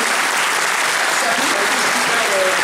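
An audience at a video game convention conference applauds the dubbing actors, a dense, steady wash of clapping that fills the whole stretch without a break.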